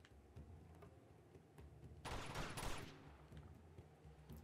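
Bursts of automatic gunfire in Uncharted 2: Among Thieves, a dense rattling volley of about a second, preceded by faint scattered shots under a low game ambience.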